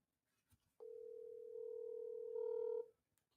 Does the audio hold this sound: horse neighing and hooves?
no